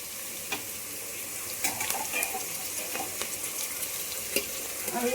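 Ginger garlic paste fries in a pan for a fish curry, a steady close sizzle broken by scraping stirring strokes and light clinks of the spoon; no voices.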